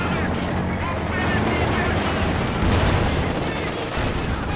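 In a WWII strategy game, conscripts throw an anti-tank grenade at a Panzer IV amid dense gunfire, a loud continuous rattle of shots and blasts with a commentator speaking underneath.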